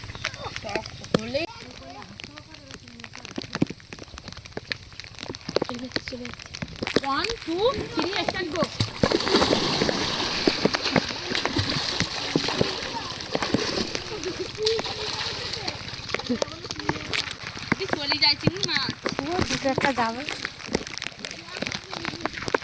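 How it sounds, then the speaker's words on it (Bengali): A fishing net is washed in river water in a Sundarban village, with irregular nearby splashes and sloshing. Someone talks over most of the clip. "বন্ধুরা দেখুন আপনাদের জন্য ভালো করে জালটা পরিষ্কার করে ধুতে হচ্ছে"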